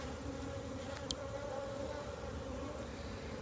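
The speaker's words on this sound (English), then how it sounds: "It's filled with honey, but check out all these bees." Honey bees swarm around an open beehive full of honey, a steady close buzzing drone that holds without a break.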